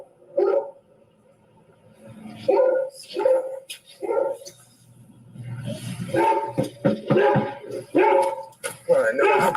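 A dog whimpers and lets out short yipping barks close by, in uneven bursts, while a person talks over and between the sounds.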